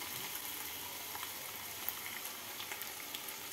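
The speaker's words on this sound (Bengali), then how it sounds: "মশলাটা দিয়ে নাড়াচাড়া করে নিচ্ছি।" Cumin potatoes frying in a pan with roasted ground spices stirred in, a soft, continuous hiss of sizzling oil with faint occasional clicks of stirring, fairly quiet and steady throughout.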